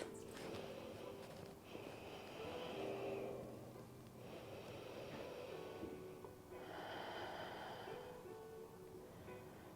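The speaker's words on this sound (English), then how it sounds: "just take 3 deep breaths" Slow, deep breathing during a hips and shoulders stretching session, several long faint inhales and exhales in steady cycles, heard alone and close.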